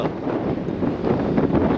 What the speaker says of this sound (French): Commence à souffler en Patagonie.